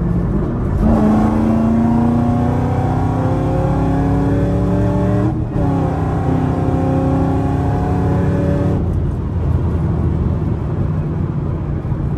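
A supercharged Chevrolet Camaro SS pulls hard at full throttle on a highway, its engine note climbing steadily through two loud rising sweeps with a brief dip at a gear change, close and continuous, with a high supercharger whine on top.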